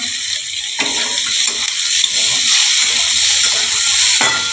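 Tomatoes dropped into a hot pan for a bitter gourd dish, a loud, steady hissing sizzle with steamy wash and a few brief bumps of stirring, close up with no voices.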